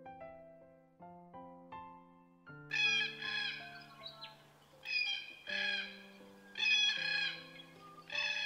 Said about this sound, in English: This is one of the iconic cockatoos, the red-tailed black cockatoo.